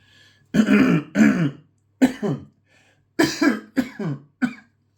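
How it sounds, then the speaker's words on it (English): A series of close coughs and throat clearings in short bursts, with a pause in between and no talking. "I have a bit of a cough from all the smoking"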